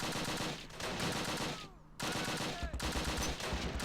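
Rapid bursts of troop gunfire in the wartime strategy game Close Combat Last Stand Arnhem, a dense crackling barrage that breaks off briefly and then resumes, loud and continuous.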